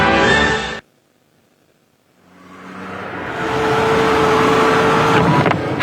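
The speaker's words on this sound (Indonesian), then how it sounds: "Hati-hati, mobilmu sedang melaju kencang loh." Sound effect in a radio ad of a car driving fast, a rising engine roar and road rush that swells after a brief pause and holds loud and steady.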